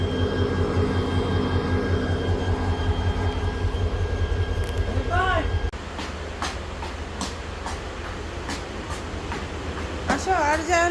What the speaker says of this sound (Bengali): ওই পাশে যে আরেকটা ট্রেন আসলো মাত্র।